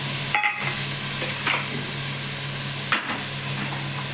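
Vegetables and peas stirred in hot oil in a pan, giving a steady broad frying hiss with a few soft scrapes and knocks from the spoon; no one speaks.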